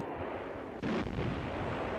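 A single tank cannon shot booms out in a World War II battle scene, a sudden deep blast that rolls on as a low rumble. It sits under a faint, steady background hiss.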